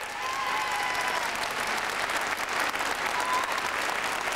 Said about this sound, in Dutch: En dat doen we met een geweldig applaus voor Laurent Rassal.